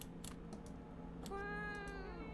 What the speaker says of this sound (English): It's just a cat.